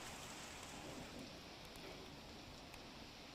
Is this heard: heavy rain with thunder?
yes